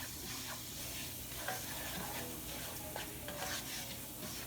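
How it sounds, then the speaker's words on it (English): Food being stirred around in a hot pot on a stove with butter, a continuous soft scraping and shuffling under a steady sizzle, fairly quiet and even throughout. "just move it around and keep stirring it around in the pot"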